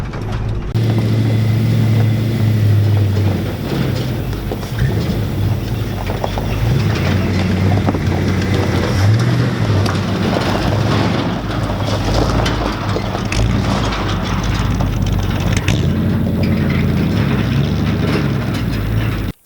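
An old junkyard truck, abandoned for 13 years and with a suspect clutch, rumbles steadily as it runs and drives. The low, continuous engine drone is mixed with gusty wind noise on the microphone.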